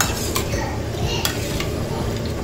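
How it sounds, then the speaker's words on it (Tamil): A spoon stirs through drumstick curry in a pot with soft scraping and sloshing, a few light clinks of metal against the rim, steady and close. "நல்லா கலக்கி விட்டுருணும்."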